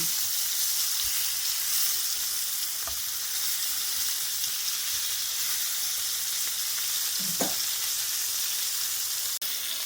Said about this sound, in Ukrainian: Коли два бочки обсмажилися, я її перевертаю на животики і ще й обсмажую на животиках